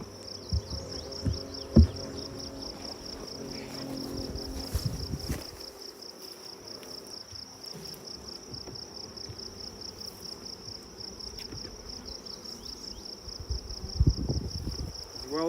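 Soft, ongoing hum of honeybees on a hive frame carrying honey during re-queening with VSH queens, with a few handling knocks and rustles near the start and end.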